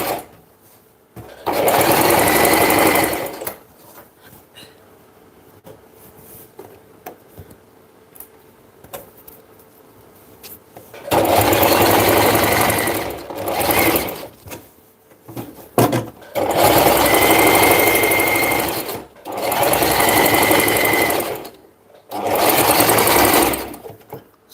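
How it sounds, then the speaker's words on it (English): A sewing machine runs in several bursts, stitching the inseams of a handmade garment: loud, steady whirring runs of a few seconds each, separated by short pauses, after a longer quiet stretch near the start. "I'm going to go ahead and stitch now the inseams of it."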